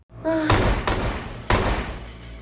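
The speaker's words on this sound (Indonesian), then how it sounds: "mereka semua dikagetkan dengan suara tembakan" Three sharp gunshots ring out in a film scene, each a loud, abrupt burst with a ringing tail, spaced unevenly over a couple of seconds after a brief breathy vocal sound.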